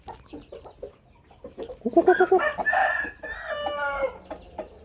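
A young Burmese game rooster crows loudly and close, one drawn-out call rising midway, after softer clucking and farmyard rustle, with no talk.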